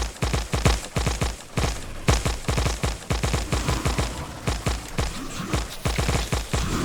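Laser turrets fire in a video game battle, a rapid, loud stream of repeated blasts in uneven bursts and volleys, close and continuous, with no voice over them.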